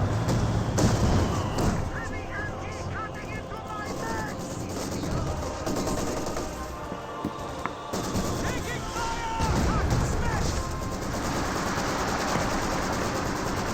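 In a Company of Heroes match, a Maxim machine gun fires heavy repeated bursts while battle rumble and explosions roll underneath, and a commentator talks over the fighting throughout.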